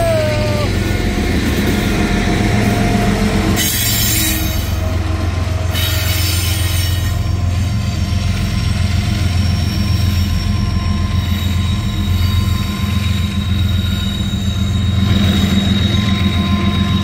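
A freight train of boxcars rolls steadily past at close range, wheels squealing in long high tones over a constant heavy rumble, loud throughout with brief bursts of harsher screech.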